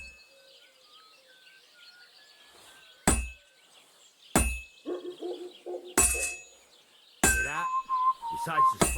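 A blacksmith's hammer strikes hot metal on an anvil in the Kingdom Come Deliverance 2 video game, giving four sharp ringing clangs at irregular intervals, with quieter ambient tones and murmurs between the blows.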